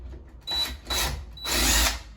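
A power drill drives into a wooden board in three short bursts, loud and close, with brief pauses between each whirring run.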